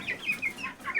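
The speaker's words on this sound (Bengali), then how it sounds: "আমাদের মুরগির বাচ্চাগুলো বড় খাঁচা থেকে তাদেরকে আমি ছোটো খাঁচা নিয়ে আনলাম।" Young chicks in a small cage cluck and cheep repeatedly in quick, uneven bursts, close and moderately loud with no talking.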